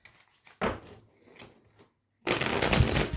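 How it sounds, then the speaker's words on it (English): A deck of cards is shuffled close by in two bursts, a short riffle followed by a longer, louder flurry of card noise near the end. "Last shuffle."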